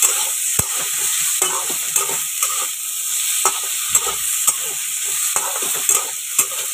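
Potatoes fry lightly in just a little oil, making a gentle crackling sizzle close by, punctuated at uneven intervals by sharp clicks and taps of a utensil against the pan.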